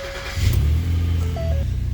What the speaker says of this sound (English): So I like to start up the vehicle